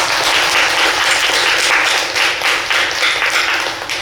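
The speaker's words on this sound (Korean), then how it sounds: "박수 한번 치고 시작할까요?" A congregation claps together in a Buddhist temple's main hall during a summer dharma service, producing a dense, loud, continuous burst of applause that holds steady for about four seconds.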